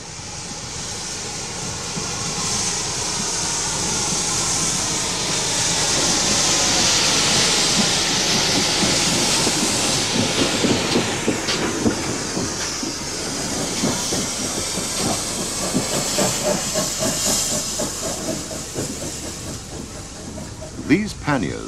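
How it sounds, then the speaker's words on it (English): A GWR 5700 class pannier tank steam locomotive, a preserved engine, with a steady hiss of steam and rumbling rolling noise that swells then eases, and a few sharp knocks near the end; no talk. "5700 pannier tank, an example of the most numerous class of Great Western engine"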